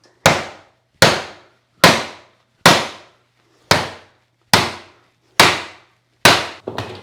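Heavy hammer blows strike a metal safe in eight evenly spaced, sharp, loud clangs, each ringing briefly before decaying into silence, with a final doubled hit at the end.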